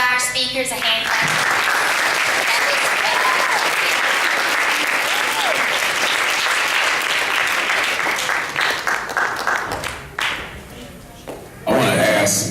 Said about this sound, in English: Can we give all of our speakers a hand clap?